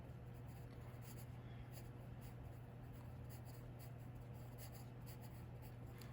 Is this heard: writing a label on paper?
yes